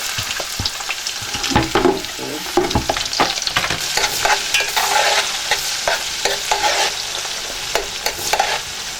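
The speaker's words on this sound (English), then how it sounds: "The onions has been frying for like 5 minutes." Onions fry in hot palm oil in a pot for the Nigerian stew efo riro, a steady loud sizzle broken by repeated scraping and stirring of a utensil, with no talking.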